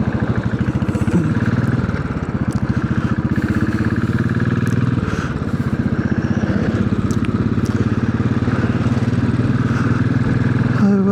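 Royal Enfield Classic 500 motorcycle engine under way on a ride, a steady loud thumping drone that holds throughout with a brief dip near the middle, no talking.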